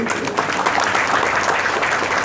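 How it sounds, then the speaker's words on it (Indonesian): Dense, steady applause from an audience at a church revival service, loud and continuous throughout with no talking over it. "kasih tepuk tangan"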